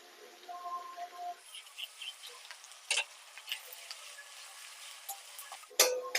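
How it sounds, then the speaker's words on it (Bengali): Onion, ginger and garlic paste fries in a pan with a quiet, steady sizzle, marked by a few sharp spoon scrapes and clicks as it is stirred; no voices. "পেঁয়াজ আদা রসুন ভাজা হয়ে গেছে"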